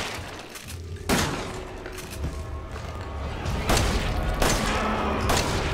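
Gunfire in the video game Resident Evil 7: four sharp, loud shots, spaced irregularly, with low rumbling game ambience between them.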